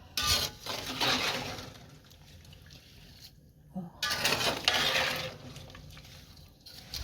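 Scraping and sloshing of a spoon stirring plums and water in a pot, in two bursts with a brief pause between, close up.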